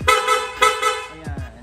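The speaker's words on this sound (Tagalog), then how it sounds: "Sir, pa-activate naman ang loud horn." A Honda Click V3 motorcycle's aftermarket loud horn blasts in several short, loud honks, close by, with a couple of quick rapid toots near the end.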